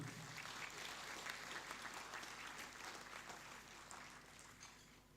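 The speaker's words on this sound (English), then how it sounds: "A round of applause, please, ladies and gentlemen." Audience at the opening of the World Green and Sustainable Summit applauds, a sustained, dense crowd clapping that slowly tapers toward the end, quiet and distant without speech.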